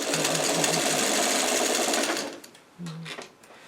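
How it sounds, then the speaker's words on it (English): A sewing machine runs steadily while back-stitching the end of a pillowcase seam, then stops, followed by one short, loud burst of stitching. The machine is close and there is no talk. "I'm coming up to the end, and I do a back stitch."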